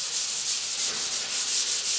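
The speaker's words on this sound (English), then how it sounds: "it helped me get through wet sanding a fender" A car fender is wet-sanded by hand in quick, even back-and-forth strokes, a rhythmic rasping that sounds close and steady with no voices.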